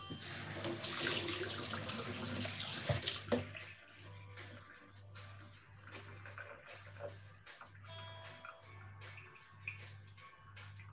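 Running tap water pours steadily as a vegetable is washed in a kitchen sink, a loud continuous splash at first that settles into a softer flow with a low background hum throughout.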